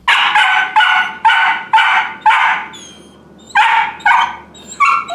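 A puppy barks and yelps in short, loud bursts, about eight close-range yaps in quick succession with a brief pause midway, ending in higher whiny yips.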